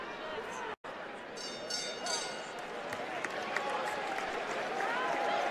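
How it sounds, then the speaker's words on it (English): Boxing crowd at a 911 Slugfest event roaring and cheering steadily throughout a third round, a dense wash of voices and applause with a brief dropout near the start. "the crowd, urging them to, throw those hands in the third round"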